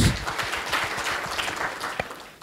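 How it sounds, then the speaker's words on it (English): Brief burst of audience applause during a speech, a dense patter of clapping at moderate loudness lasting a couple of seconds. "Hear yourself a round of applause."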